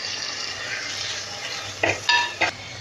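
Curry leaves crackle and sizzle steadily in hot oil, and a few sharp clinks of a spoon against the pan come near the end.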